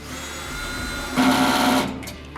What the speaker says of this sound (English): Grab your 7/16 and your 3/8 drill, tighten these things down.